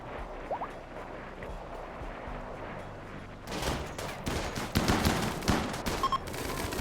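Distant scattered shots in the RimWorld colony game give way to a loud, dense barrage of automatic gunfire and overlapping rifle fire, continuing unbroken with sharp cracks to the end.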